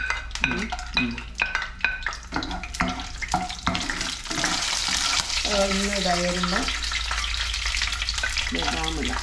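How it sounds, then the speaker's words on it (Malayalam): Raisins fry in a pan for carrot halwa, giving a steady sizzle with stirring and scraping sounds. A short stretch of running tap water comes up in the middle, and no one talks. "അങ്ങ് വറുത്ത് കോരി വെക്കാം"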